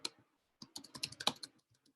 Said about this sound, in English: I'm just typing that out.